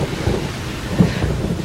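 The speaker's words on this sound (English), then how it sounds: "it's raining, Ed." Steady rain falls outside before a trip to church, a dense, even hiss with low rumbling underneath, continuous and fairly loud throughout with no voices.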